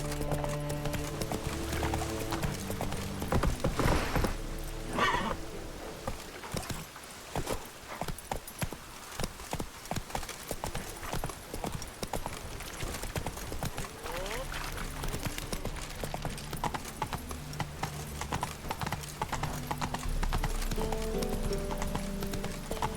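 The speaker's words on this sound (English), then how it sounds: "Whoa there, Roach." Horse hooves clip-clop steadily in The Witcher 3 video game, a continuous rhythmic run of hoofbeats, close and prominent, with a brief snort or whinny along the way.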